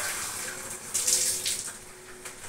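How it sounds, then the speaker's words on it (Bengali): Water is poured in the kitchen to make three cups of tea, a short gushing splash that swells and then trails off with a few brief spurts. "তাই 3 কাপ জল দিয়ে দেবো।"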